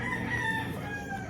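A Sweater gamefowl rooster crows in a drawn-out, wavering call. It rises over steady low farmyard noise, neither close nor far, with no one talking.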